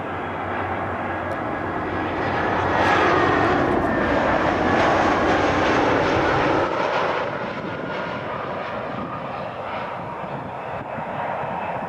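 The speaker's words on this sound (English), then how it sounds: "Here comes the plane." Fixed-wing airplane passing overhead near Fort Mifflin on its landing approach, a loud, broad engine roar that swells over a few seconds, holds, then slowly fades but lingers throughout.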